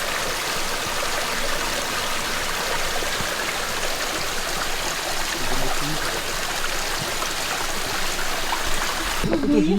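A clean mountain stream on the Pulpit Rock hike in Norway rushes steadily and close by, a continuous broadband wash of flowing water with no break, ending with a brief handling noise.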